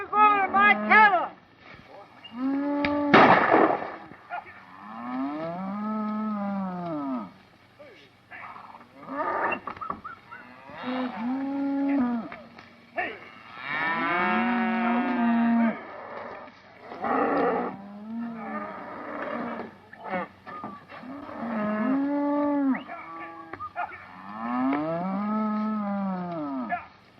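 A herd of cattle in an old Western setting, mooing in long, drawn-out calls that rise and fall, several overlapping at moderate distance with short gaps between them.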